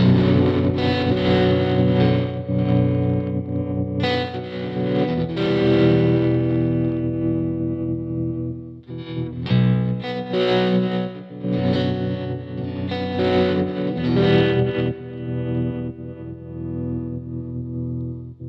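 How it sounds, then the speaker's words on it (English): Baritone guitar driven through heavy fuzz and a Walrus Audio Monumental tremolo pedal, playing loud, distorted sustained notes and chords that pulse and swell, with brief gaps between phrases and no talking. "I'll get the baritone and we'll put more fuzz through it and see what silly sounds we can make."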